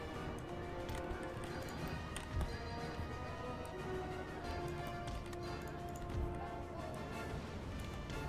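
Cavalry hooves, light horse and guard dragoons, thud in a soft, continuous clatter during a Napoleon Total War battle, faint and blended into a dense wash of battle noise.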